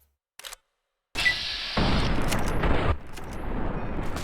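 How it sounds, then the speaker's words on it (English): Sharp gunshots from Fallout: New Vegas while shooting people, a faint early crack after silence, then a loud blast followed by sustained noisy firing and lingering rumble. "Why do I keep shooting people in their left arm?"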